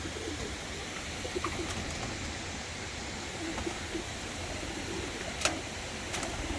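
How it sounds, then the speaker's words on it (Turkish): Tumbler pigeons being flown outdoors, with soft low cooing and occasional faint bird calls over a steady wash of background noise and a couple of brief sharp sounds. "Bakalım abimiz bize nasıl dönek uçuracak arkadaşlar"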